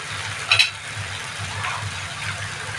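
Chili powder and spices fry in hot oil with a low steady sizzle, broken early by a brief sharp clink of a utensil, and a faint hum beneath.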